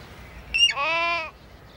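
A single sheep bleats once, clear and fairly close, a wavering bleat lasting under a second over quiet outdoor background on grazing pasture.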